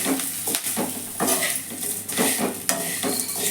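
Vermicelli roasting in a pan, stirred with a utensil, sizzles steadily with repeated scraping strokes, close and continuous, no voices.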